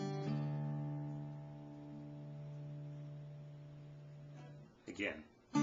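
Fingerpicked acoustic guitar notes from the intro of a song, a pull-off followed by several plucked strings ringing out quietly and decaying, with a voice starting to talk at the end.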